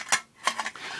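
Thin stainless steel mess kit pieces being handled, giving a few bright metallic clinks and scrapes: one sharp clatter, a pause, then a cluster of rattling knocks close by.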